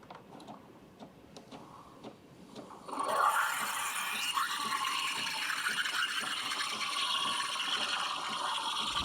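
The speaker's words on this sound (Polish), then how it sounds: "Ok, ekspres jest gotowy, można zacząć spienianie." A loud, steady roaring hiss starts abruptly after a few quiet seconds and continues as the steam wand of a DeLonghi Magnifica S espresso machine froths milk, with faint clinks before it.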